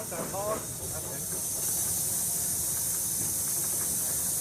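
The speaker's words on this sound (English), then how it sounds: "we've let enough steam into the cylinders" Steam hisses steadily and loudly into the cylinders of a Gresley A4 steam locomotive, a broad continuous rush building slightly over several seconds, with a brief voice heard at the start.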